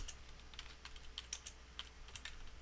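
A computer keyboard being typed on in a steady run of light, quick keystrokes that are close but soft, heard over a low constant hum, with no talking.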